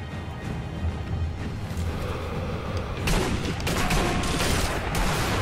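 Enemy gunfire in the video game Sniper Elite V2: a steady wash of distant shots and muffled booms, growing denser and louder partway through, with overlapping reports and no talk.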